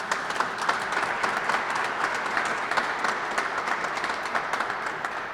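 Audience applause for a group of Kentucky companies at a state roadshow event, a steady wash of many clapping hands at moderate distance with no pauses, a few louder claps standing out.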